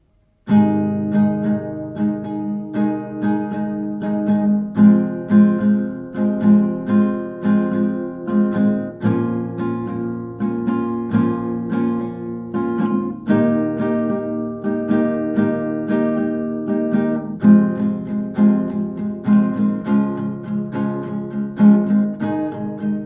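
Steady strummed acoustic guitar chords ring out alone, changing chords at regular points in an even, continuous rhythm.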